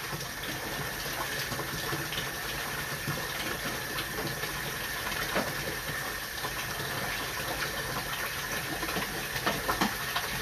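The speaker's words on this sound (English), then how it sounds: "That big volume of water should gush all that out of there." A large volume of water gushes steadily through a utility sink drain, a continuous broadband rushing that holds at the same level throughout, with no voices over it.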